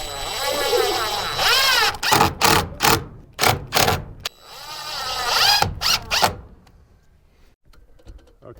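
A power drill drives screws into a treehouse window frame, several whirring bursts rising in pitch, then a rapid series of short trigger pulses, another long run and a few final pulses before quiet.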